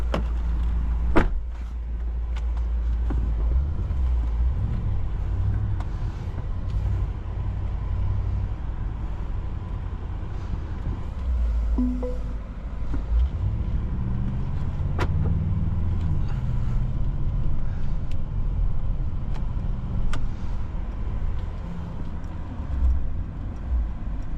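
A 2024 Mercedes-AMG GLS 63 cruising on the road, heard from inside the cabin as a continuous low engine drone and road rumble with occasional small clicks and knocks.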